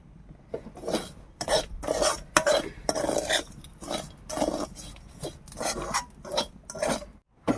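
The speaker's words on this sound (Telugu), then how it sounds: "గణేష్ అయితే మసాలా కలిపేస్తున్నాడు" Masala for a Kerala-style chicken curry being mixed and stirred by hand in a pot or bowl, a steady series of scraping, clattering stirs and knocks, close and fairly loud, with brief pauses between strokes and no talk.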